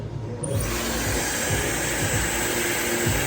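A hair dryer switches on and blows steadily and loudly at close range while hair is styled with a round brush for root volume, its whooshing hum continuing without talk.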